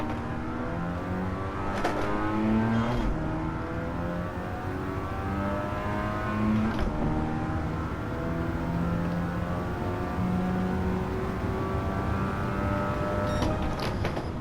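A Mazda RX-7 FC in Gran Turismo 7 drones steadily under throttle, with a rotary engine tone rising and falling through wavering harmonics as the car slides around a track, loud and continuous with no talking.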